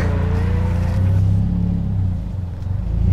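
A Mitsubishi Eclipse fitted with an Evolution engine pulling away, its engine droning low and steady from inside the cabin, with a rising tone that shifts as the car eases off and picks up again.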